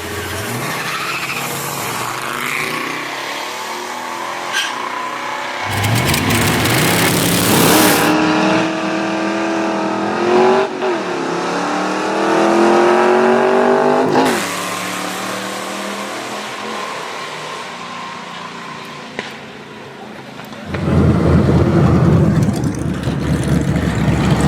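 A 1969 Super V and a 1991 Mustang GT drag race at a muscle car cruise, engines roaring loudly and continuously, with sustained revving, rising pitch sweeps and tire squeal over a long run.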